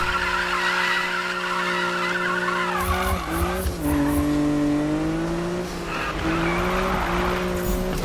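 Tires squeal loudly as a car drifts in the 2015 Need for Speed video game, a sustained screech that bends in pitch through the slide over a steady engine drone, with no talking.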